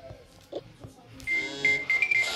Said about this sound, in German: ich habe meinen Wecker auf 6 Uhr angestellt